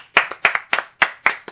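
A few people clap sharply and unevenly after touring the Realm of Darkness haunted house in Wisconsin, producing about a dozen distinct close handclaps in quick bursts with no talking.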